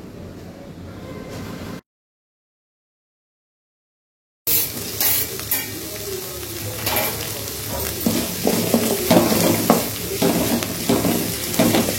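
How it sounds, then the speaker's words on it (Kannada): Onions and green chillies frying in oil in a pan give a dense, close sizzle with stirring clatter. The sound runs steady after a brief silent gap, with no talking. "ಒಂದ್ ಕಡೆ ಈರುಳ್ಳಿ ಹಸಿಮೆಣಸಿನ್ಕಾಯಿ ಫ್ರೈ ಆಗ್ತಾ ಇರುತ್ತೆ."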